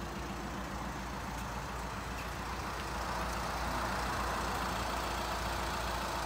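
A VW Transporter T30 van's engine running at idle, a steady low rumble with even mechanical drone, close and continuous with no talk.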